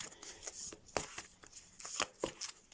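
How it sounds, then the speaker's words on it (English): Oversized tarot cards are shuffled by hand in a quiet room, giving a series of soft, close riffling and slapping bursts in an uneven rhythm, with no voices. "let's give these another shuffle"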